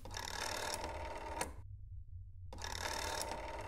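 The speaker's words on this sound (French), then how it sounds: "J'adore le téléphone comme ça, je trouve qu'il y a un côté grave ASMR." An old telephone rings in the horror game That's Not My Neighbor, two loud bursts of bright, rattling bell separated by a short silence, steady and close.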